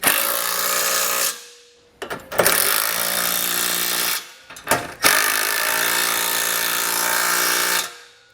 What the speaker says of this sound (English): come back with a 19mm socket and wrench and snug everything down